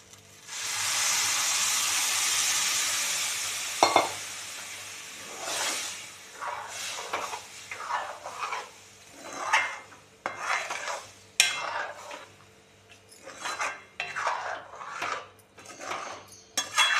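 A spoon scrapes and stirs steamed sabudana in a pan, giving soft irregular scraping strokes and clinks after an opening burst of steamy hiss, close and fairly quiet with no talking.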